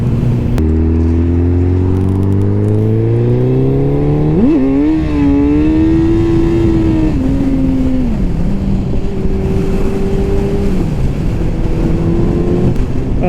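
A Suzuki Hayabusa motorcycle roars close up while being ridden, its engine pitch climbing steadily, jumping after a gear change, then holding and dipping, all under heavy wind rush.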